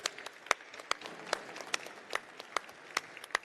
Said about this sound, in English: A round of applause to our guests and panelists.